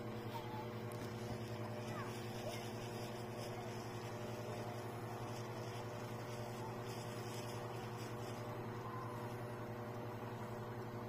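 A steady, droning boat motor on the Miranda River hums continuously at an even pitch, close by, with faint talk underneath.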